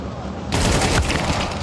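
Burst of rapid gunfire in a Counter-Strike 2 match at a playoff esports event, a sharp onset followed by dense, loud repeated shots over about a second.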